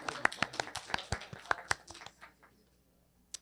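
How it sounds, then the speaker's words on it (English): A small group at a town hall gives a brief, scattered round of clapping, a handful of hands tapping out sharp, uneven claps that thin out and fade within a few seconds. "a little round of applause"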